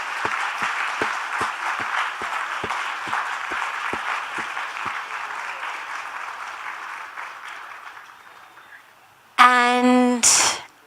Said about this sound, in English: let's give him a very heartfelt, love-felt, reverence-filled round of applause